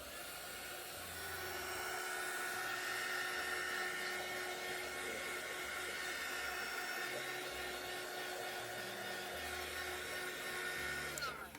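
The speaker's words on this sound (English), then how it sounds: "I'm going to make it dry with my heat tool." A crafting heat tool drying ink on a card: a constant whirring fan hum with a high whine that runs steadily for several seconds and then clicks off abruptly at the end, with no talking.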